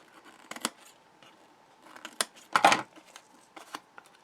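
Scissors snip the corners off doubled cardstock and paper in a handful of quick, close cuts, with short bursts separated by soft handling noise of the card in a quiet room.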